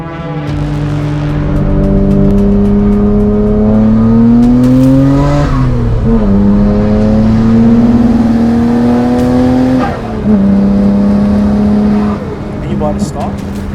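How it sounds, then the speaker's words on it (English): A 1995 Nissan Skyline R33 GTR with HKS GTSS turbos and Nismo fuel injectors revs hard and loud, its engine pitch climbing, dipping and climbing again in repeated sweeps. "This is my 1995 Nissan Skyline R33 GTR."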